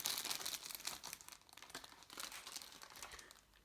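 Plastic packaging for ant nest tubing crinkles and rustles steadily as it is unwrapped, a soft, close, continuous crackle with no speech.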